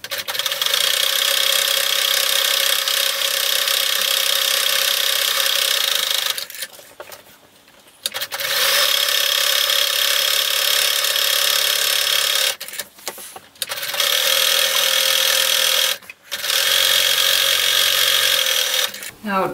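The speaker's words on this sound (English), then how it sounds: "Now we're going to sew along each one of these with a 3/8 inch seam allowance" A sewing machine stitches tote bag seams in three long, fast, steady runs of close mechanical whirring, separated by short pauses.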